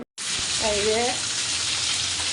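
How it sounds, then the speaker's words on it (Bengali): Fish frying in a pan gives a loud, steady sizzle that starts suddenly and holds throughout, with a brief voice-like tone partway through. "এদিকে মাংস সেদ্ধ হচ্ছে আর এদিকে মাছ ভাজা হচ্ছে"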